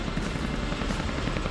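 A Chinook helicopter flies overhead at about 4.6 km altitude during a reusable launch vehicle drop test, its rotor throb a steady, dense low rumble that stays unbroken and fairly loud throughout.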